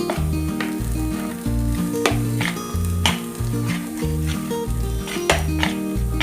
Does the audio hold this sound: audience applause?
no